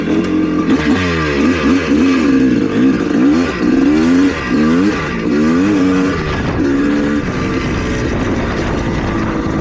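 A rebuilt 1982 Suzuki motorcycle engine lugs and pulls in third gear while riding, a loud continuous droning growl with a rising and falling pitch, heard alone.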